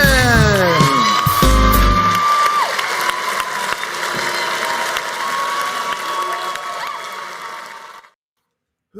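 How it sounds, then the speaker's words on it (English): A studio audience bursts into sustained applause with cheers and whoops for a talk show host's entrance, dense clapping over a brief musical sting, continuing loudly for several seconds before cutting to silence. "That applause seems to get longer"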